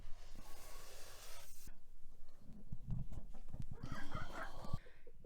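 Backyard chickens clucking and squawking close by during morning feeding, a busy run of short clucks with a rooster-like call mixed in and scattered scratching sounds.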